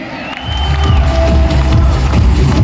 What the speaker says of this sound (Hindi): बहुत जोरदार तालियों के बीच, उत्साह के बीच और पूरी कृतज्ञता के साथ में आदरणीय Saurabh Chhabra sir on the stage.